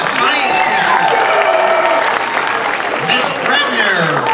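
Loud crowd applause and cheering for a teacher serving as judge at a middle school talent show, a dense roar of clapping with shouts and voices mixed throughout.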